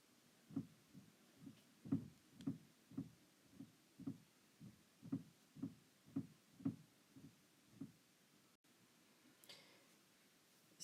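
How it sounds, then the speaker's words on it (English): Children knock on a bedroom door in a run of about fifteen faint, evenly spaced hollow raps spread over roughly eight seconds. A brief rustle follows the knocking. "that noise was my kids knocking on my door."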